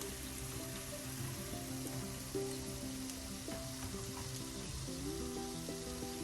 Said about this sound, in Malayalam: കോവയ്ക്ക നന്നായി ഫ്രൈ ആയിട്ടുണ്ട്